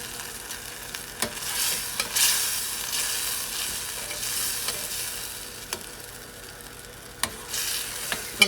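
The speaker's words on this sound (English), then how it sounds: "I'm gonna let this simmer till everything's all melted." Chicken wing sauce with melting brown sugar simmers in a pot over lowered heat, giving a steady bubbling hiss broken by a few sharp clicks and stirring knocks, with no talking.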